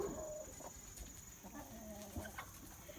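Farm hens cluck softly and briefly, with a few short calls against a quiet outdoor background.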